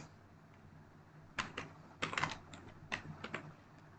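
Fingers tap out a Wi-Fi network name on a computer keyboard during WLED festive lighting setup, producing a few scattered, close keystroke clicks in short bursts over a quiet background.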